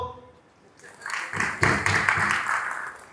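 An indoor audience breaks into clapping for themselves at a talk, a burst of many hands swelling in after a moment of a voice and continuing steadily to the end.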